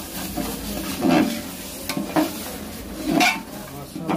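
Mixed vegetables with tomato fry in oil while a spatula stirs and scrapes the pan, giving a constant sizzle broken by several louder, rhythmic stirring strokes.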